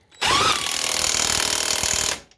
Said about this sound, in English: I drive them bolts all the way on